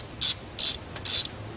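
A socket ratchet unscrews a spark plug in a series of four quick, crisp clicking bursts, evenly spaced and close, with no talking.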